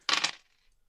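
A handful of dice clatters onto a table in one quick, close rattle that dies away within half a second, with no voices over it.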